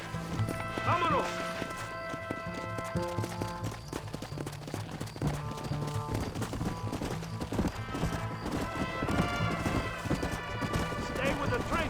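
Horse galloping in the video game Red Dead Redemption: rapid rhythmic hoofbeats with a neigh early on, mixed with game music and shouting voices throughout.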